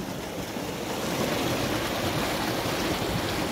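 Fresh water rushes steadily through concrete irrigation channels in a village, a loud, close, continuous broadband gush with no pauses and no talking.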